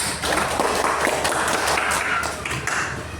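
A classroom of students claps for a presenting group, a dense, steady patter of hands lasting a few seconds, fairly close and without talk.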